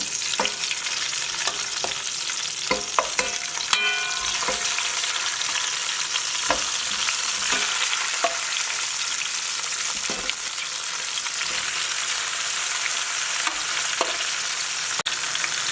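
Lamb shanks sizzle and crackle in hot oil in a pot with garlic, a constant frying hiss broken by occasional pops and light stirring clinks.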